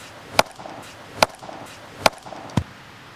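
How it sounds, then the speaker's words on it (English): A Husqvarna forest axe striking wood, four sharp separate chops spaced under a second apart, the last blow deeper and thicker as a knotty piece pops in half, close and loud with no talking. "That's the sound of that wood coming in half."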